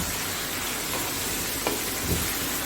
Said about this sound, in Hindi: ये देखिए, इसको अच्छी तरह भूनेंगे।